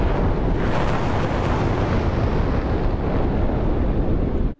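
A DF-26 ballistic missile launching in a simulation video game, a loud sustained broadband roar that holds steady for about four and a half seconds before cutting off abruptly.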